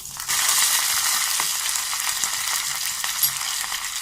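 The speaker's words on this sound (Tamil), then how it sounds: "கொஞ்சம் பொரியட்டும்." Ginger, dried chillies and curry leaves frying in hot oil for a curd vermicelli tempering give a steady, bright sizzle and crackle, close and continuous.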